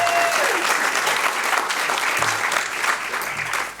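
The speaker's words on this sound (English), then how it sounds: "Dylan, round of applause," Loud, sustained applause from a conference audience greeting a panelist, dense and continuous throughout and tapering only slightly at the end.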